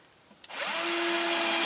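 A power drill drives leftover terrace screws into boards for a log lean-to shelter. A couple of faint clicks come first, then the motor spins up into a loud, steady whine that holds to the end.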